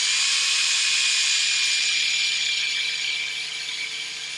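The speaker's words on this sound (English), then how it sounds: "So we're going to apply a little bit more pressure, and we're going to drill forwards." A power drill bores into the plastic of a Razer mouse scroll wheel under increasing pressure, giving a continuous high, close whine that holds steady for several seconds and then eases slightly toward the end.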